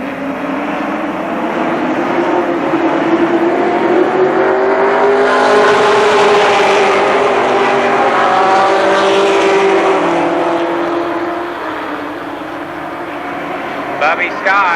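Legends race cars circle Columbus Motor Speedway at a 1996 night race, their engines a loud sustained drone that swells and fades as the pack passes, with a race announcer talking over it.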